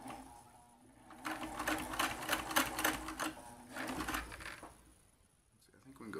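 A vintage Singer 328k sewing machine with two needles stitching a zigzag, its fast mechanical whirring and clatter rising and falling in two close bursts at moderate volume.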